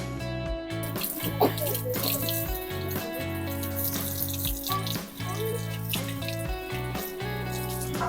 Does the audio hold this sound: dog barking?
no